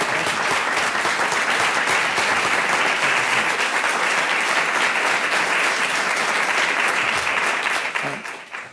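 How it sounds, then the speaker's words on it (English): Loud, sustained audience applause at a public health speaker series, a thick wash of clapping that holds steady and then tapers off in the final second. "One last round of applause."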